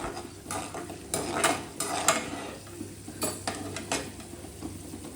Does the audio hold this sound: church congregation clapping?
no